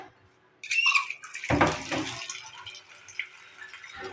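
Water runs from a tap into a container to soak food for cooking, a soft splashing rush after a brief quiet start, close by and fairly faint.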